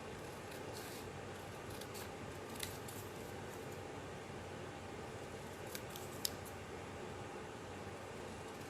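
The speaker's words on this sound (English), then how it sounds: "I'm just going to cut this out." Scissors quietly snip through paper, cutting out an image for a journal page, with faint repeated crisp cuts over a soft, steady background hiss.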